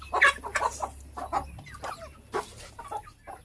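Hens and chicks clucking close by in a farmyard, with busy overlapping clucks and a few sharper calls at a lively, uneven pace.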